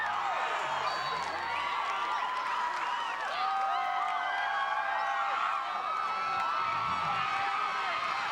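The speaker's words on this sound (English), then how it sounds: "This side of the crowd now really getting after it." A large crowd roars and cheers steadily at a 2000 Olathe North vs Olathe South high school football game, a dense continuous wall of shouting and whooping heard from within the stands.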